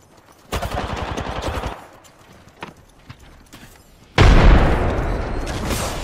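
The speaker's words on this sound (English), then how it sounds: "That's another squad shooting at us." Gunfire from an enemy squad in Apex Legends, heard as a rapid automatic burst, a few scattered single shots, then a loud heavy volley with a booming tail, close and aggressive, with no talk.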